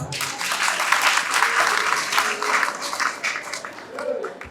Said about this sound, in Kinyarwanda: Ndabasabere mwikomera amashyi cyane.